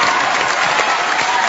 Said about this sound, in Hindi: जोरदार तालियां रेखा जी के लिए।